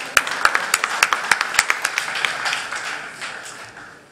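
A short round of clapping at a political rally, sharp individual claps in a quick rhythm that build briefly and then thin out into a fading patter, fairly close and with no voices over it.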